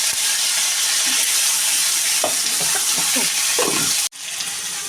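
Bay leaf and ginger-chilli paste hit hot oil in a tempering for a banana-flower curry, giving a loud, continuous sizzle with a few spoon scrapes and a brief dropout near the end.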